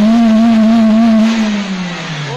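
Suzuki Cultus with an M13 engine revving hard, a loud sustained steady-pitched drone that holds then drops off as the throttle eases, close and alone with no talk.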